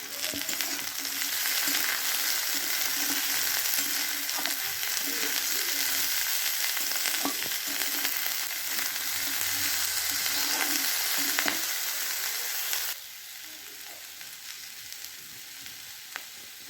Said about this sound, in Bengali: বেগুনটা দিয়েও একটু ভেজে নেব